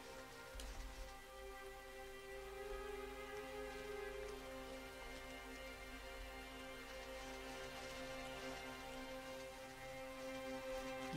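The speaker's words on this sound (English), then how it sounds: "has a lot of rain on it. A lot of rain sounds" Rain falls in the video game Rain, a steady, soft patter spread across the whole stretch. Sustained tonal music or ambience sits underneath, and no one speaks.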